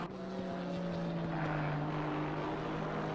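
Racing car engine lapping Brands Hatch in a PC Series race, an orange BMW with black stripes, a steady loud droning tone held throughout with no talk.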